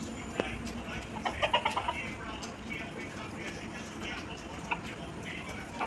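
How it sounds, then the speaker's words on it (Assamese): A chicken clucks at a Hindu temple shrine (than) in Assam, a short burst of several quick clucks early on and one more later, over steady outdoor background noise with faint murmuring voices. "এই মুৰ্গী এটা চাইছোঁ তাতে উঠিছে লেতেৰা কৰিবৰ কাৰণে"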